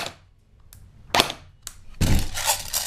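An Elite Force M4 CQC airsoft gun fires a few sharp single shots, then lets off a continuous full-auto burst of rapid cracking reports, close and loud with no talking.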